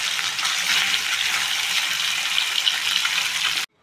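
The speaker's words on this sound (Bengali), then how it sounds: "তেল গরম হয়ে গেছে, তো আমি এখন প্রথমে মাছটা ভেজে নিচ্ছি।" Fish fries in hot oil in a home kitchen, a loud dense close sizzle that holds steady for several seconds and then cuts off abruptly, with no talking.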